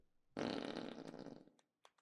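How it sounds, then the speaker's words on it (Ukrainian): A loud, drawn-out cartoonish fart from the video game Roadside Research lasts just over a second and rasps as it trails off, followed by a couple of faint clicks. "Пердло!"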